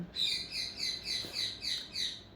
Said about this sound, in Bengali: আমার টিয়া পাখিটা ডাকাডাকি করতেছে